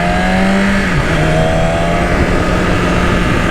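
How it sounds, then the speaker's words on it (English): A 2021 BMW S1000RR superbike engine holds a loud, steady high-pitched drone at close range, with a brief pitch dip near the start before settling into a constant whine, with no talking. "And yeah, it's so strong, this engine."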